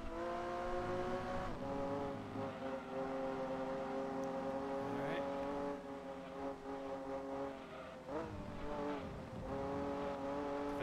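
Race car engines in the racing video game Gran Turismo 2 drone loudly and steadily at high revs, dipping with gear changes toward the end as other cars run close alongside.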